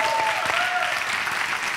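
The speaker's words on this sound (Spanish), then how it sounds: "Un aplauso a JJ." Audience applause at the close of an interview event for JJ Vaquero, a steady, dense wash of clapping that fills the short stretch, with a faint voice briefly audible under it.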